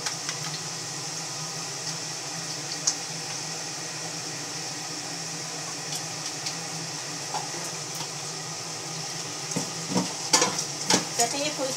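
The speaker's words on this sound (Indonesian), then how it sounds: "Ini telurnya mau digoreng ya." Eggs frying in a pan on a home stove give a steady, close sizzle with light crackles and occasional spatters, a few sharper pops near the end, and no talking.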